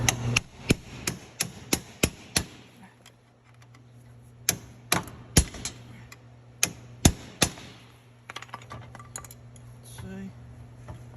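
Sharp metallic hammer strikes ring out in irregular bursts, several quick blows then pauses, close by over a low steady hum, as a hammer drives an LS engine mounting bracket into place.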